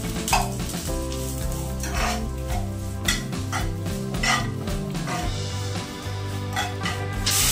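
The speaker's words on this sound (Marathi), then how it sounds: "आता मी हे तुपावरती या शेवया व्यवस्थित भाजून घेणार आहे" Vermicelli roasting in ghee in a pan, giving a steady close sizzle with scraping stir strokes and the occasional clink of a utensil against the pan throughout, over a continuous tonal music-like background layer.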